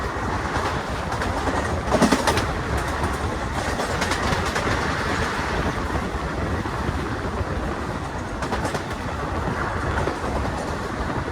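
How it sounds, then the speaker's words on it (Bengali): Train arriving at Hajipur railway station in Bihar on the Kolkata to Nainital run, a steady loud rumble of wheels and carriages with faint rhythmic clatter throughout, continuous and close. "তো আমাদের ট্রেনটা এখন এসে পৌঁছালো বিহার রাজ্যের হাজিপুর রেলওয়ে স্টেশনে"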